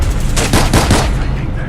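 Rapid gunfire in the video game Fallout 4, shooting through metal, a loud, dense burst of overlapping automatic shots with heavy low rumble, close and continuous for under two seconds.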